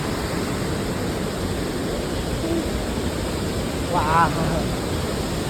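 Water pours steadily over the old Wawa dam in a loud, constant roar heard close up, and a man briefly exclaims partway through.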